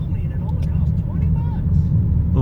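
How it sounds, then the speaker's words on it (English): Steady low rumbling road and tire noise inside a moving 2020 Toyota Corolla, resembling a bad wheel bearing, fills the whole stretch as a continuous droning hum. "Hear that tire noise? Sounds horrible. It's like... It sounds like a bad wheel bearing."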